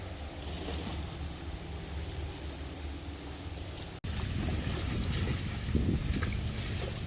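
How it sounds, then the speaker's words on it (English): Water from Lake Guntersville washes and splashes against the shoreline along a park trail in a continuous, moderately loud surge, with wind noise, growing busier after a brief cut midway. "that water has been splashing up here and getting me"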